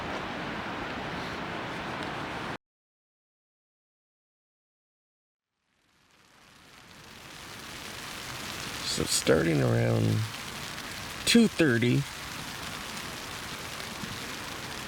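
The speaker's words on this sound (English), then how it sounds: "it started raining again." Steady rain falls on a backpacking trip in Montana's Mission Mountains, a continuous close hiss that cuts out briefly and then builds back, with a few sharp patters and knocks near the end as a voice speaks over it.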